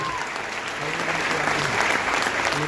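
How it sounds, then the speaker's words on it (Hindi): Steady, dense audience applause at a wellness company's product and business training event, many hands clapping continuously at close range for a few seconds with a faint voice underneath. "एक जोरदार तालियां इस संस्था के लिए।"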